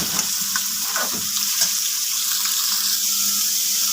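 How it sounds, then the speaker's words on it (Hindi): Chicken frying in about two tablespoons of cooking oil in a wok gives a strong, even sizzle with bubbling spatter and a few stirring scrapes early on, steady throughout and without talking. "कढ़ाई में अब मैं तकरीबन 2 टेबलस्पून के करीब डाल दूंगी कुकिंग ऑयल, और इसमें जाएगा ये चिकन, और चिकन को करेंगे इसमें फ्राई।"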